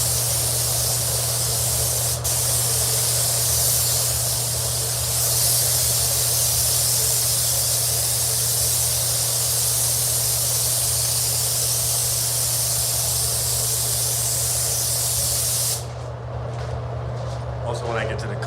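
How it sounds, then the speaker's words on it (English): A spray gun applies sealer to a Honda hood in gray metallic paint, giving a loud continuous hiss over a steady compressor hum for many seconds, then cutting off at the end. "I'm going to spray it down and out away from the vehicle"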